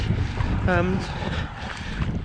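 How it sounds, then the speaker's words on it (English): Gusty wind buffeting the microphone, a low rumbling roar throughout, with a brief voice-like tonal sound partway through. "Ooh, that is windy, you probably hear that."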